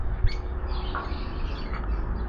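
Birds in an aviary give a few sparse chirps and soft calls over a low, steady background hum, with no one speaking.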